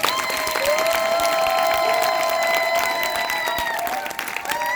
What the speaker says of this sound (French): Qui peut acclamer pour la gloire de Dieu?